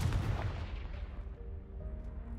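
A Confringo blasting spell explodes in Hogwarts Legacy: one loud, close boom at the start that rumbles and fades over a couple of seconds, with a faint tonal hum lingering beneath.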